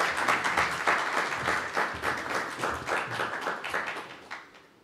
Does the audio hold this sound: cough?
no